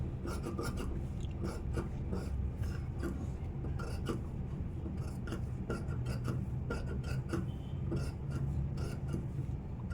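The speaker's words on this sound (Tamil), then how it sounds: "இப்போ இந்த கழுத்தாண்ட இந்த ஒரிஜினல் பீஸை வந்து வெட்டி எடுத்துக்கலாம் லெவலாக." Scissors cut blouse fabric around the neckline, a steady rustling, rasping snip-and-slide texture continuing closely and softly throughout with no talk.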